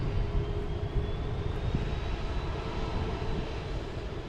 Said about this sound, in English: We got Delta coming in from Baltimore.